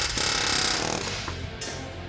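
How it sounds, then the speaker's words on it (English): A loud pneumatic air hammer rattles rapidly and continuously at close range, knocking out rivets on a Chevy 1500 truck frame, its harsh metallic hammering easing slightly toward the end. "a different bit on the air hammer to get the same thing done"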